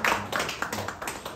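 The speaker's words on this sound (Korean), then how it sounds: "박수해 주시길 바랍니다." An audience at a church gathering applauds, with brisk rhythmic clapping from many people that fades slightly across a brief moment.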